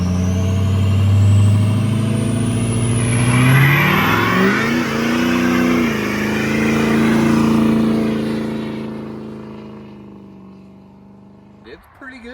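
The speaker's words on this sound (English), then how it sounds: "I did a burnout." A Ford 6.0 diesel pickup truck doing a burnout, its engine roaring loud and close as it revs up and surges, rising and falling across the run before dropping away into a short clatter near the end.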